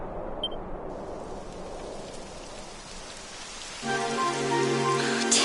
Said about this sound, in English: Typical. It would have to go and start raining